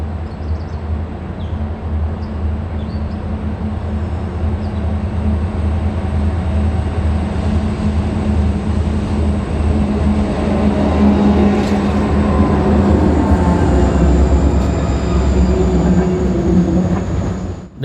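A Reading & Northern fast freight train rolls past steadily near the Lehigh River at Bridgeport, with a continuous deep rumble and wheel noise that holds for the whole stretch and swells slightly toward the end.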